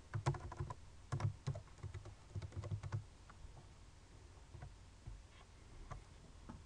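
Fingers type on a computer keyboard in quick bursts of soft clicks, then slow to scattered keystrokes, faint and close with no talking.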